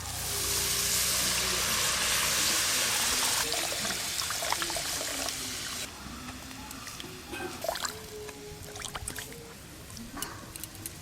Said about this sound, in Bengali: এবার নারকেলের দুধটা ছেঁকে দিয়ে দেবো।